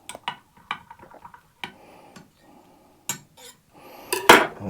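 Soft plastic bait mixture in shad shell colour being stirred in a cup, giving light scattered clinks and taps of the stirrer against the container, with a louder clatter near the end.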